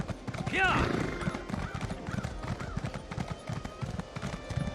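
Rapid clip-clop of galloping horse hooves in the video game Elder Scrolls Online runs throughout, with a horse whinny near the start and a voice speaking over the steady rhythm.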